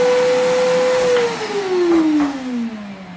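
A Stanley 6 gallon wet/dry vac, model SL18116P, fitted with two extension tubes, whines loudly nearby, its steady high tone sagging lower as the motor winds down.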